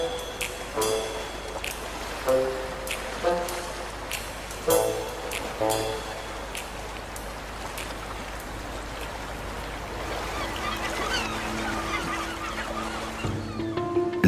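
Young gulls call for food, giving repeated honking, squawking cries in irregular bursts over a steady background wash of water or wind. The calls sound close and fairly loud.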